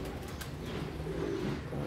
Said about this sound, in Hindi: कबूतर दाना शाना खा रहे हैं